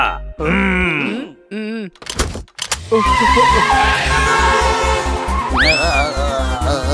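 A cartoon car races along with a rapid thumping engine, a sudden thud and a rising tire screech, loud and cartoonish, with no talk over it.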